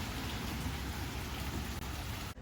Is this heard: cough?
no